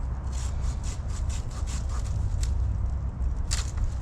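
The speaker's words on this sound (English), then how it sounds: "Green wood just cuts a little better." A handheld pruning saw cuts through green wood in rhythmic back-and-forth strokes, giving a steady rasping at close range with brief bright bursts on each pass.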